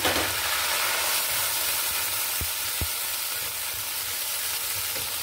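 Cumin, ginger, garlic and onion pastes fry together in hot oil, a loud, steady sizzle with a couple of dull knocks from stirring.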